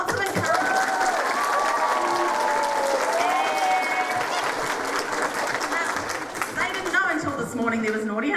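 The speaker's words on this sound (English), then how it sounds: "give them a little bit of a clap, because they need lots of encouragement" An audience applauds a junior beginner band at a concert with steady, continuous clapping mixed with some cheering and voices, which fades slightly toward the end as a few people call out.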